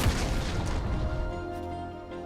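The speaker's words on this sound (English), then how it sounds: "an enormous cannon that deals tons of true damage at the beginning of the ultimate" Gangplank's cannon barrage ultimate in League of Legends fires a rapid volley of heavy booming cannon blasts that crash together at the start, then thin out and fade into a lingering rumble.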